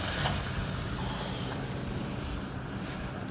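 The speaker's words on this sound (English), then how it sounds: "now you're gonna get to see what a cold start on this beast sounds like" A 2012 Toyota Hilux engine running just after a cold start, a steady low rumble with broadband noise heard from the rear of the truck, fairly loud and continuous with no talk.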